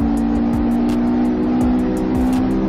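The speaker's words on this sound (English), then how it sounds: "Listen to how up in the RPMs they are, boy." Loud, sustained high-RPM engine drone from street racing cars, steady and close, with rapid pulsing crackles on top.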